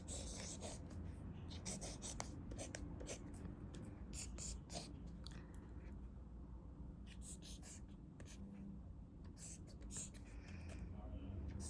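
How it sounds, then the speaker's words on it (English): A pen scratches letters onto paper in soft, close strokes, quiet and intimate over a steady hiss, during a calm ASMR-style cranial nerve exam roleplay. "let me just write down a few letters"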